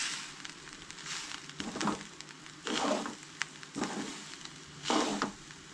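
Masala, chilli powder and turmeric sautéing in a pan for Goan coconut egg curry, a steady sizzle swelling in bursts as the spices are stirred, close and continuous with no talk.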